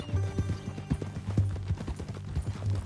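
Horse hooves thud in a quick, uneven clip-clop close by in Red Dead Redemption 2, with a low whinnying undertone running beneath the steps.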